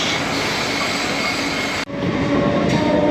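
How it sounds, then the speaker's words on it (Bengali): Inaugural special passenger train on the Amghata to Krishnanagar line running at speed, a loud continuous rumble and rattle of carriages with a brief dip partway, no talk. "দেখুন ট্রেন ভালোই স্পিডে চলছে"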